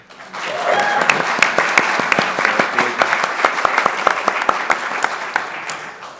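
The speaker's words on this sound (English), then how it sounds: "it'd be great if we get a round of applause for him" An audience at a PAX convention panel applauds with sustained clapping and scattered sharp claps, fairly close and continuous throughout.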